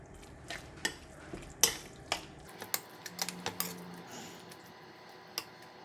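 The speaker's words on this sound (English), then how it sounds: "Give it a stir." Egg tofu and luffa being stirred in a clay pot with soy sauce and sesame oil: sharp, scattered clicks and taps of a utensil against the pot, close and fairly quiet, with a soft low hum fading early.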